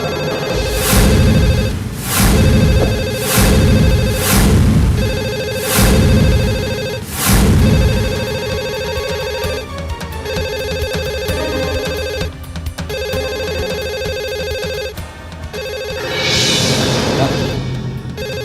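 A telephone bell rings in repeated bursts, loud and close, in a Bhojpuri TV drama scene, with the rings continuing through the clip alongside some background music.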